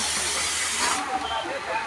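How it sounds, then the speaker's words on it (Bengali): Meat cooks in a hotel kitchen under a loud, close, continuous steam hiss that eases slightly after about a second. "এটা আমার ভাইয়ের হোটেলে আমি মাংস রান্না করতেছি।"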